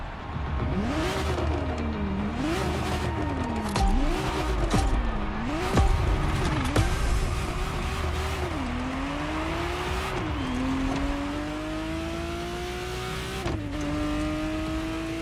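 A Ferrari Testarossa driven in The Crew Motorfest racing game: a loud, close engine revs up and down in repeated swells, then climbs steadily through gear changes over a constant road roar.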